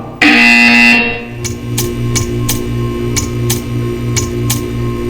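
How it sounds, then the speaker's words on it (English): A loud electronic buzzer sounds at the start of a Portal 2 test chamber, a harsh tone about a second long. After it comes a steady electrical hum with regular ticking pulses. "You will hear a buzzer."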